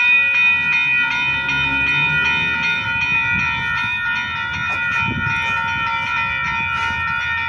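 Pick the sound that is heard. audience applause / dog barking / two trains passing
two trains passing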